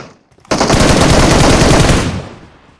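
Loud, sustained automatic gunfire from PUBG Mobile, a dense rapid burst lasting about a second and a half that cuts in abruptly and then trails off, with no talk over it.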